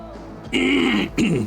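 Two quick, harsh throat clearings, one right after the other, close to the listener.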